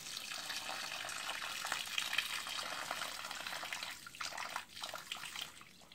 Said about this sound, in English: I'm filtering the excess water off